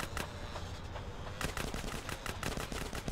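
Video-game gunfire in Grand Theft Auto San Andreas comes as rapid bursts of sharp shots, with a short pause before a denser string of repeated cracks. The shots sound fairly faint and no one talks over them.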